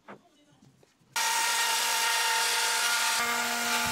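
A power saw cuts out the middle of a wooden board. After a moment of faint handling noise it bursts into a loud, steady, close-up cutting roar that holds to the end.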